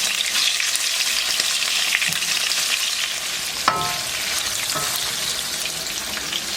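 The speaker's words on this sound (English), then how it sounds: "all we're gonna do is fry the shrimp on each side, just make sure it's nice and cooked" Shrimp frying in a pan, a loud dense crackling sizzle running steadily throughout, with a brief metallic clink partway through.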